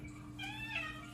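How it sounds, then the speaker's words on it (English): A pet cat named Gigi meows once at close range, a short rising and falling call heard indoors over a steady low hum. "my cat is talking right now"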